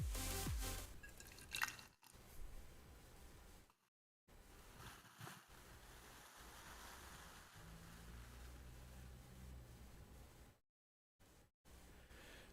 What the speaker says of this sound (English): We got the good little bit of the like pour sound, but we got a lot of the fizz.